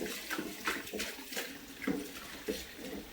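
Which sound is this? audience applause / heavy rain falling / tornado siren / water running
water running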